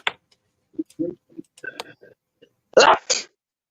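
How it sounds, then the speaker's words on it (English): A loud human sneeze bursts out near the end after scattered small clicks and soft handling noises, with no talking. "Oh yeah, I'm a loud sneezer."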